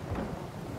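Cartoon thunderstorm: a deep, rolling rumble of thunder under steady rain, heard briefly and fairly loud.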